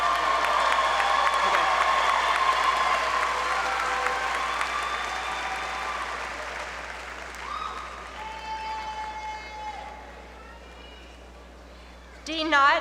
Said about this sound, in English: Let's give a round of applause to the Master of Health Administration graduates.